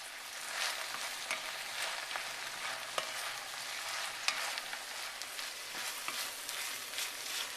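Onions for French onion soup sizzling as they cook down in a pot, a quiet, even hiss with small pops and the occasional light scrape of stirring.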